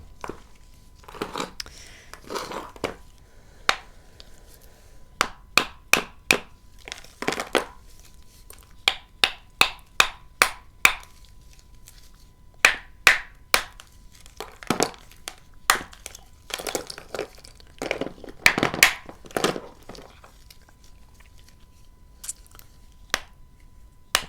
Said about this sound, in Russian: Здесь надо ударить большим молотком